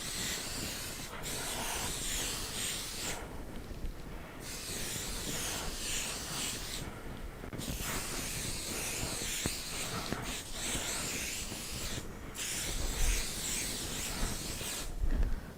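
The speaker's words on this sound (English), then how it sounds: "So now this layer will get the spray." Aerosol basting spray hissing onto a quilt layer, a steady close spray running in several long bursts separated by short pauses, with no voices.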